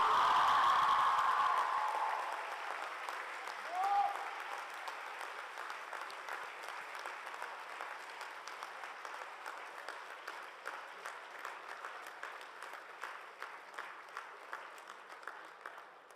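Crowd at the VIBGYOR MUN 14 opening ceremony applauds the Secretary General, sustained dense clapping that starts loud with cheers and settles into a steady, slightly fading round.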